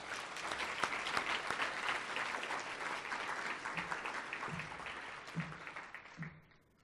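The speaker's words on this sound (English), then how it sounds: "let's give them all a round of applause" An audience at a university academic achievers' awards ceremony in Pretoria gives a round of applause, a dense, sustained ovation that thins toward the end into a few scattered claps before fading out.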